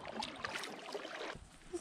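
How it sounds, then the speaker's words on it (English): Canoe paddles dip and pull through lake water, giving soft splashes and trickling drips close by, quiet and without talking. "Alright, guys, start paddling."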